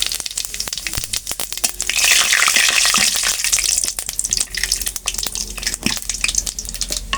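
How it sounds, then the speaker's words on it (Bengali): Cumin seeds and bay leaves hit hot oil in a pan, a loud, steady crackling sizzle with sharp popping spatters throughout and no talk. "তেল গরম হয়ে গেছে জিরা এবং তেজপাতা দিয়ে দিন"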